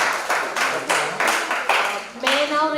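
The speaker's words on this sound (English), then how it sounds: "Can we give a big round of applause to the wonderful panelists and discussion?" Rhythmic, evenly spaced clapping from an audience at an MBA panel discussion, honouring the panelists, with a voice starting to speak near the end.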